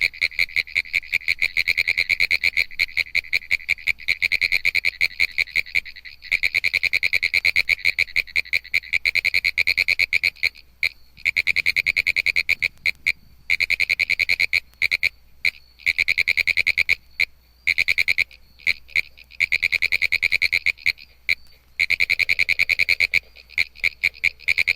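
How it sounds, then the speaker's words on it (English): Pine woods tree frog, Hyla femoralis, calling from a shallow woodland pond near Gainesville, Florida, in May: rapid, rhythmic bursts of raspy clicking notes like Morse code, loud and close, repeating with brief gaps. "A pine woods tree frog, Hyla femoralis, sounds his Morse code on May 30th from a shallow woodland pond"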